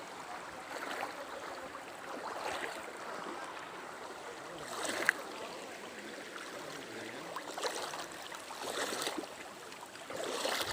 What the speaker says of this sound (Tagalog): pakinggan natin guys ang lagaslas ng tubig habang aking ninanamnam sa aking mga paa guys